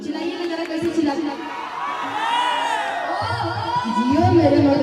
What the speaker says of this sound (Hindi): ऐसे ही चिल्लाते रहिए